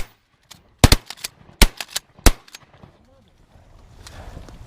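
Several sharp shotgun blasts ring out during a duck hunt on Sauvie Island, a few loud close reports spaced irregularly with quieter trailing shots, followed by faint outdoor rustle and a brief voice.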